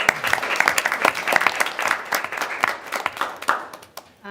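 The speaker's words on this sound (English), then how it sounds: "can I give them a round of applause?" A small group at a college board of trustees meeting applauds the accessibility and accommodation staff. The claps are close and individually distinct, lively at first, then thinning out and stopping after about four seconds.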